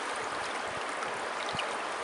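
A broad river runs high after a devastating flood, a steady full-band rush of water that fills the scene evenly with no pauses and no voices.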